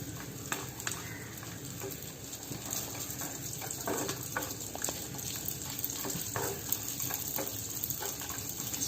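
Raisins frying in ghee make a continuous close sizzle with bursts of crackle and soft stirring taps throughout, and no one talks.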